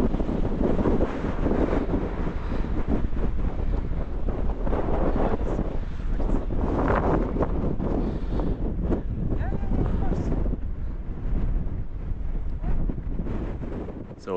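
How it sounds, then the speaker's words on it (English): Strong mountain wind in the Atlas Mountains near Imlil buffets a camera microphone fitted with a wind cover, a loud continuous rumbling roar that swells and eases, with a person talking underneath. "It's super, super windy up here. The wind cover can only do so much."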